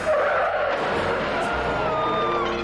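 A car skids hard on screen in the Police Squad TV comedy, with a sustained tire squeal and wavering, screeching tones over a loud, steady rush lasting the whole moment.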